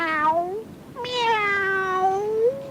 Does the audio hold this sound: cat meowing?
yes